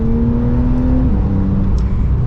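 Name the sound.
Porsche 992 911 Carrera engine accelerating in sport mode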